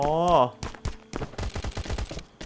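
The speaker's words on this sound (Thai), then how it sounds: "อันนี้มันยิงกันอยู่ครับ ดูดิ M4" M4 rifle gunfire in the survival video game Last Island of Survival, with several sharp shot bursts in quick succession following a tonal sweep, mixed with a talking voice.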